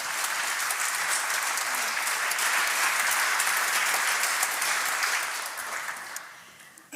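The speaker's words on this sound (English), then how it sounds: "Would you like to give a round of applause to our first panel" An audience gives a panel on fixing the NHS and social care a round of applause: a dense, sustained wash of clapping that holds steady, then tapers off near the end.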